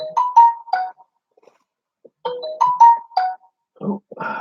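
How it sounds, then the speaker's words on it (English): A phone chimes its notification, a short melodic run of bright tones played twice, clear and close, with a person's brief exclamation and some soft handling noise after the second run. "that's my phone telling me that someone's on Twitter looking at my stuff"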